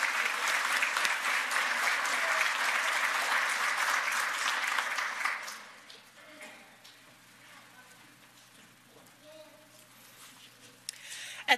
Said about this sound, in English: Join me in thanking them with a round of applause.